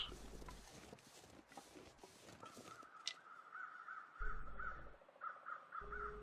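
Crows caw in a foggy Muskeg birch forest in The Long Dark, a run of harsh repeated caws close by, following a stretch of crunching footsteps.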